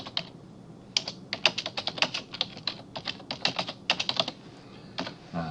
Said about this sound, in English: So I can type my comment.